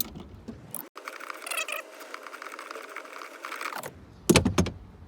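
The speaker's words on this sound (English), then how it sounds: "tighten this one with the same socket" Socket wrench tightening a car battery terminal in a BMW 5 Series F10 trunk, a rapid run of close ratcheting clicks lasting a few seconds, followed by a louder clunk of handling.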